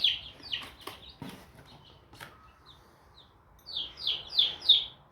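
Small baby chicks peeping close by, several sharp high chirps at the start and a quick cluster of four or five near the end, with faint handling noise between.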